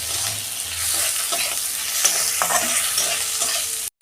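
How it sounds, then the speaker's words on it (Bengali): Onion and tomato sizzle as they are fried and stirred in a home kitchen pan, with a continuous close crackle and repeated scraping strokes of the spoon. "পেঁয়াজ টমেটোটা একটু নরম হয়ে যায়"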